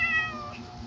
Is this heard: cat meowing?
yes